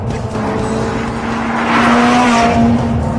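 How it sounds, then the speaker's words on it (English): McLaren 675LT supercar spinning its tires under power oversteer, with a loud, sustained engine drone and tire squeal close by that intensifies toward the end. "It spins the tires more than it translated into forward motion."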